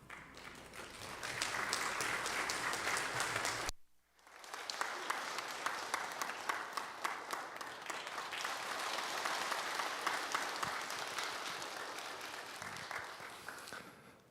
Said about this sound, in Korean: 이 시간 목사님 나오셔서 인사하실 때 환영의 큰 박수 부탁드리겠습니다.